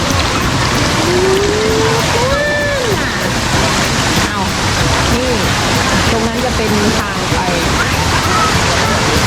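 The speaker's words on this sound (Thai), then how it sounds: "น้ำตกสาลิกา นะคะจังหวัดนครนายก" Steady broadband rush of Salika waterfall in Nakhon Nayok, Thailand, fills the whole stretch with loud, continuous water noise, while someone talks over it and a crowd of visitors stands nearby.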